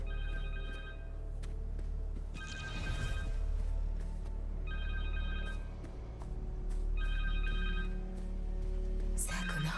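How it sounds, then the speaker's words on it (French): A telephone rings in the Spider-Man 2 video game with three bursts of an electronic trill, each about a second long and evenly spaced, over a low steady game hum, and no one speaks. "Téléphone ?"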